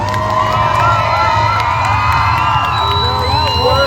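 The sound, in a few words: crowd cheering for drivers at a figure eight car race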